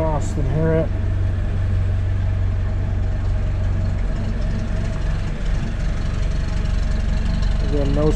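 A 1948 Willys Jeep MB engine idles at the exhaust, a steady, low rumble continuously close by, even and unbroken, with a faint voice briefly audible at the start and end.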